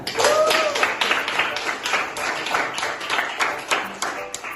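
A classroom of seventh-grade students claps hands during a lesson, producing several uneven bursts of clapping with a voice or two mixed in close by.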